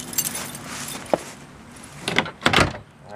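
Car keys jangle near the driver's door, with a short metallic clink followed by a couple of louder rattling bursts and handling noises close by, no talking.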